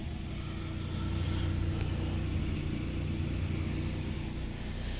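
A 2023 Nissan Frontier Pro-4X pickup's engine settles into a steady low idle after starting, a continuous close rumble with no talking.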